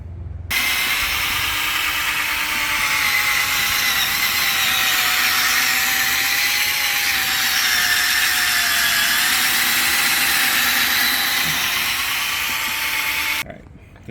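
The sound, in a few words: power tool polishing car headlights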